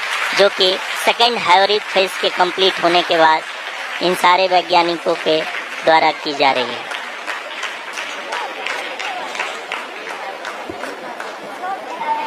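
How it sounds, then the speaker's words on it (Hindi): Scientists in mission control applaud during the Chandrayaan-3 lunar landing, producing a sustained wash of clapping and crowd murmur. A commentator speaks over it the whole time, and the applause stands out more as the talk thins toward the end. "जी हाँ, आप इस तालियों के गड़गड़ाहट को सुन सकते हैं,"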